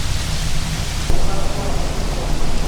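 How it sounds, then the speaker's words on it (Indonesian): Rain falls steadily around a box culvert on the Kali Sepak Gabus waterway, a dense, continuous hiss that grows noticeably louder about a second in and keeps going without a break. "Ini hujan lagi, sedang diuji nih"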